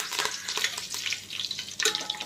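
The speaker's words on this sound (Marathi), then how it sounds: "कढीपत्ता चांगला क्रिस्पी होईपर्यंत तळायचा आहे" Curry leaves crackling and sizzling in hot oil with mustard seeds and cumin while tempering for thin poha chivda, a close, bright spattering hiss with small pops.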